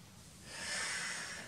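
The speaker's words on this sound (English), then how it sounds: "So I inhale my lift," A single slow nasal inhale during a seniors' Pilates lift exercise, soft and close, swelling to a breathy peak and easing off, with no talk over it.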